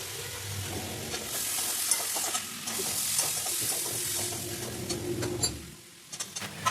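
Boiled potato and jackfruit sizzle in a pan of fried onions while being stirred, a dense, close frying hiss with repeated scraping strokes that fades near the end.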